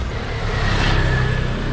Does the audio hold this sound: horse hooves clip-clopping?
no